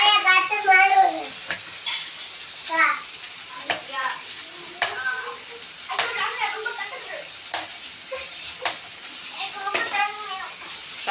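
Three large onions sauté in a pan for mushroom gravy, a steady sizzle broken by stirring scrapes and clinks, while a person talks over the cooking.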